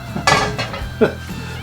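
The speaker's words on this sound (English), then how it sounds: "Then that allows me to get down my other frying pan." A few metallic clanks and knocks of a frying pan being taken down in a kitchen, close and fairly loud, in a short burst.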